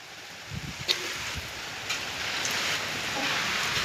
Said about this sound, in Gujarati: બધો વરસાદ બહુ છે